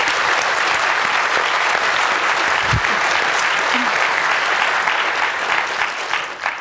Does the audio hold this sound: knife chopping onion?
no